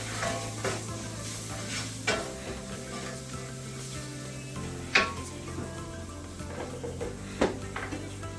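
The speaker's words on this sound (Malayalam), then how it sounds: "പിന്നെ ഒരു ടീസ്പൂൺ ഉപ്പ് ഇത്രയിട്ട് ഒന്ന് വഴറ്റണം" Chili powder, turmeric and salt sautéing in a pan for a shrimp and mango curry give a low, quiet sizzle. A spoon stirs with soft scrapes and occasional sharp clinks against the pan, close up, with no talking.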